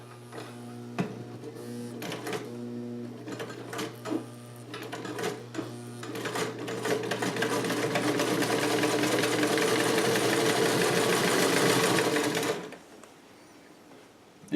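A vintage Cool Blue Sovereign sewing machine starts with a few clicks, then runs loud and steady with a fast mechanical whir and rattle before stopping abruptly.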